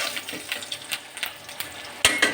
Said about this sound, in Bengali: এই যে ডিম আমার ভাজা হয়ে গেছে